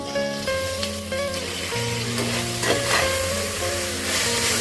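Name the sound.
stirring biryani masala frying in a pan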